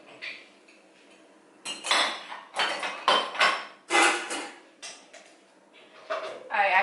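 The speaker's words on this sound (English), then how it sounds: "there's like a bunch of dishes here that I still need to put in the dishwasher, and if I don't unload this" Dishes are unloaded from a dishwasher in a home kitchen, with a series of close, loud clattering clinks of plates, glasses and cutlery, racks sliding and pieces set down in irregular bursts.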